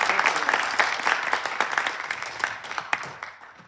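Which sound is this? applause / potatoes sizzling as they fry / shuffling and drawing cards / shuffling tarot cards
applause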